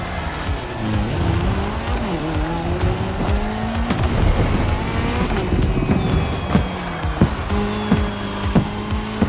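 A car and a KTM motorcycle race in The Crew Motorfest, engines revving and shifting through gears with repeated tire squeals and skids, loud and continuous from start to finish with no talking.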